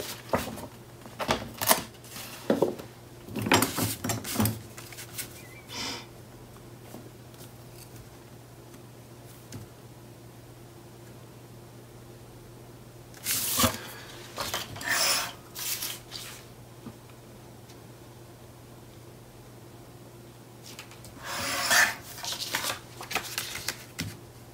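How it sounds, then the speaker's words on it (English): Paper being cut and trimmed by hand for a Ciao Bella Sonora mini album page, heard as several short bursts of rasping, rustling strokes separated by quiet pauses, with a steady low hum underneath. "I'm just gonna mark this and hand cut or trim it"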